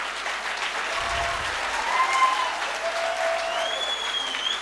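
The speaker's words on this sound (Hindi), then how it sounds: "ताली बजा सकते हैं आप लोग?" An audience claps together, a dense burst of applause that swells briefly and then carries on steadily.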